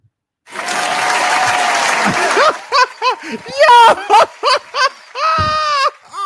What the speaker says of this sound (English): I know you didn't just hit no motherfucking round of applause in this bitch for Bill Cosby being out.